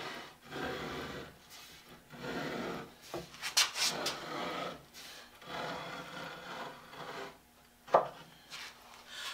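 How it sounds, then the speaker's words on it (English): Faint, slow scraping of a scribe line on wood for a saw till, soft rubbing strokes with a few light knocks of the tool, quiet and close with no talk. "So go slowly and don't press hard. It doesn't take a lot to scribe a line."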